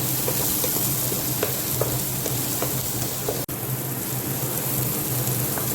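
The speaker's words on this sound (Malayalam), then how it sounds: "സ്പ്രിംഗ് ഓണിയൻ്റെ വെളുത്ത ഭാഗം അത് ആദ്യം ഇട്ട് കൊടുക്കുക. അതൊന്ന് വഴറ്റിയതിന് ശേഷം സ്പ്രിംഗ് ഓണിയൻ്റെ പച്ച വരുന്ന ഭാഗം അടുത്തിട്ട് കൊടുക്കുക." The white part of spring onion sizzles in a hot pan for gobi manchurian, a continuous close frying crackle with a few light stirring clicks and a single brief dropout, no talking.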